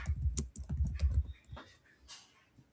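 Quick bursts of computer keyboard typing, close and fairly quiet, with rapid clustered keystrokes at the start and a few scattered taps trailing off.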